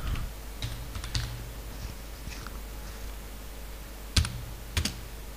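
Typing on a computer keyboard while entering names into a document, with sparse, quiet key taps spread across the clip and two sharper, louder keystrokes near the end over a low steady hum.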